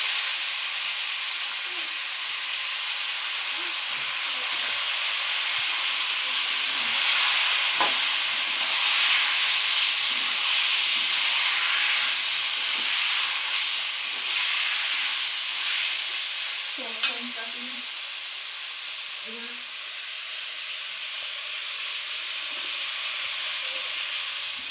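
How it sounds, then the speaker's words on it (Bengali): Goat meat sizzles and hisses in hot oil while it is stirred, a steady, fairly loud frying wash that lasts throughout, with faint scrapes and clinks and no talk. "এই যে এবার মাংস দিয়ে দেবো।"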